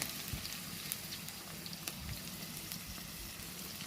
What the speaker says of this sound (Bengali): এবার তেলের ভিতরে কাঁচামরিচ আর চিংড়ি মাছ দিয়ে দিলাম